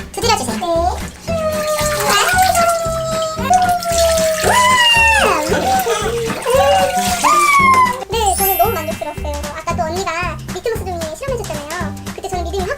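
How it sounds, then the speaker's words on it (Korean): Water is poured over a baby from a bath scoop during bath time, a running splash heard under a voice and loud musical accompaniment. "샤워기보다는 바가지를 이용하셔서 물을 부어주시면서"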